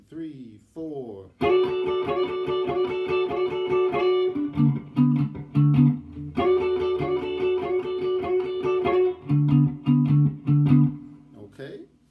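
Electric guitar plays a slide-blues riff and rhythm in a steady shuffle, loud and close, with a brief spoken count-in at the start and repeated phrases that drop to a lower string before returning.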